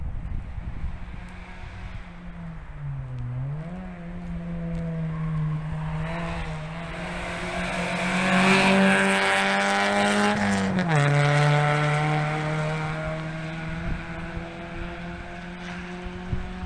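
Cars racing at Bira International Circuit in Thailand, a continuous engine drone that swells and shifts pitch as a car passes, with the roar peaking mid-clip and wind noise underneath.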